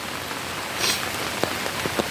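Rain falling outdoors on a wet day, a dense, even hiss of drops on surfaces with a few louder individual drips standing out.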